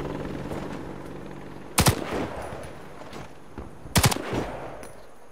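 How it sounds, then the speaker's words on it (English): Two short, sharp bursts of automatic rifle fire crack out in the Warface training camp, spaced a couple of seconds apart, loud and close over a quiet ambient hum. "Now it's time to try a more precise way of shooting."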